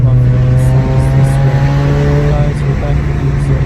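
A Peugeot 306 with a Varex exhaust and the last muffler removed revs loudly and close, a raspy engine note rising and holding with harmonic whine before easing off.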